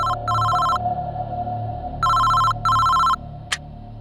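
A mobile phone rings in a crime drama scene, with a loud, bright electronic ringtone in short repeating bursts separated by brief gaps over a low background hum, and no talk.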